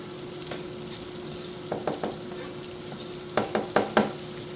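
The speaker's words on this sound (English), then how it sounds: "take our onion, our garlic, and our chili pepper and add that right into our pan" Onion, garlic and chili pepper sizzle in a pan with crisped pancetta, a steady frying hiss broken by two clusters of quick clattering stirs, close by.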